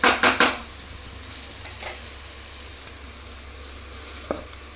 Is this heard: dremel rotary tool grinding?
no